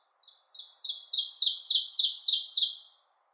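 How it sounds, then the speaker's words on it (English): An adult songbird sings one rapid trill of about a dozen bright, high chirps, rising in strength and then fading, close and clear against near silence. "even adult songbirds who have a fully developed song are thought to do rehearsal singing"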